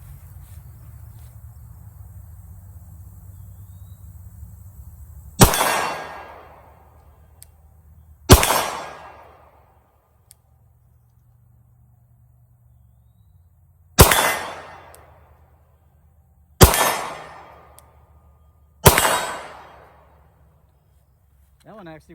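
Five sharp, loud gunshots from a Glock 48 pistol fired at a 25-yard target, loaded from Shield Arms magazines. The cracks come irregularly spaced, each decaying quickly, over a low steady outdoor hum.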